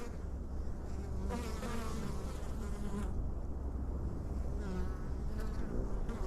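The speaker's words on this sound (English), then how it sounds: "Let's see if we can get a bee or 2 coming in with some pollen." A steady, dense hum of many honey bees buzzing at the entrance of a swarm trap outdoors, loud and continuous, with individual bees droning past now and then.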